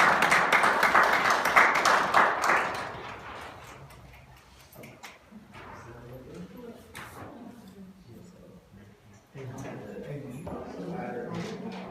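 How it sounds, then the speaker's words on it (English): A round of applause from a gathered audience rings out loudly for about three seconds, dense clapping that then fades into talk, shuffling and scattered knocks. "Let's give them a round of applause."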